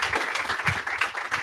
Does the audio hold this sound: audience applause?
yes